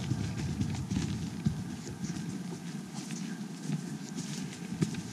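Hooves of a Standardbred horse walking along an outdoor trail, a steady, soft clip-clop of footfalls on dirt, fairly close and moderately quiet, with no talking.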